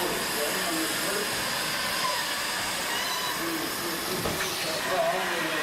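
Broadband hiss of a steam train on the Great Central Railway, steady and fairly loud throughout with a faint rumble underneath, as if standing near the engine on the platform.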